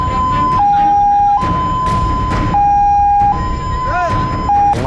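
Ambulance siren sounding loud and close, alternating between two pitches in a steady hi-lo pattern throughout, with faint background noise around it.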